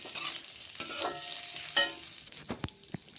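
Potatoes frying in butter in a pan with sago, chillies and peanuts, stirred with a few distinct scrapes and clacks of the spoon over a steady, soft sizzle.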